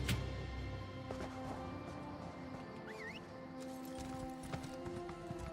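Horse hooves clip-clop in the Elder Scrolls Online video game, faint rhythmic steps under game music and ambient tones.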